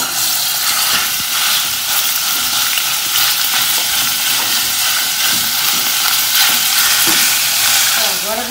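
Ground beef sizzles loudly in olive oil, a dense continuous frying hiss close up that holds steady throughout, with faint stirring beneath.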